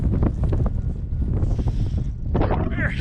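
Wind gusts buffet the microphone at a kite flying field, a loud rumbling roar that rises and falls with the gusts, with a voice talking over it.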